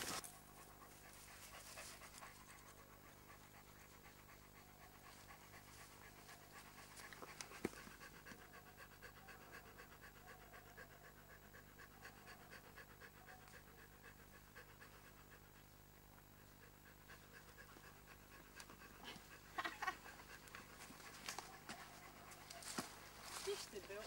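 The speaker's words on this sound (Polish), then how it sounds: "bo tam jakiś pies jest." A dog pants steadily on a walk through a forest in Komorów, its quick, rhythmic breaths running throughout at moderate volume while a person talks nearby.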